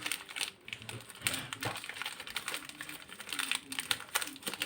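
A wrapper of Nutella B-ready wheat wafers is pulled open, producing steady close crackling and crinkling with small clicky ticks throughout.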